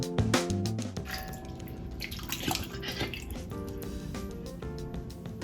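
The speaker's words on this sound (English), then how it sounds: "I am going to add my diced tomatoes." Home-canned diced tomatoes pour and splash into a pot of cooked meat for spaghetti sauce, a steady close wet sloshing and dripping that runs for several seconds with no talk.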